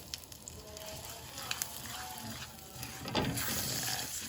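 Ground spice mixture with red chilies and asafoetida sautéing in a hot pan, a steady soft sizzle with faint scraping clicks and a brief louder burst near the end.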